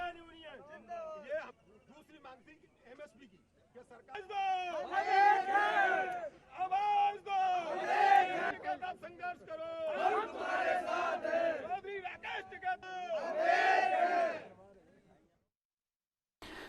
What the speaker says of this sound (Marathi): दुसरीकडे दिल्ली आणि उत्तर प्रदेशच्या गाझीपूर सीमेवर शेतकऱ्यांनी जोरदार घोषणाबाजी केली।